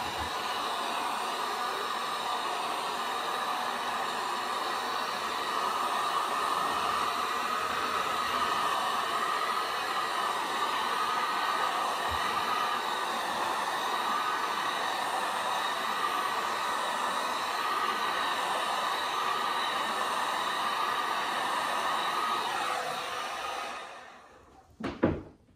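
A heat gun blows hot air onto a vinyl wall panel inside a van conversion, a loud, steady, close whooshing roar that runs unbroken for over twenty seconds before cutting off, with no talking.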